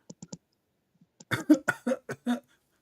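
A few soft throat sounds come first, then a string of several close, distinct coughs in quick succession.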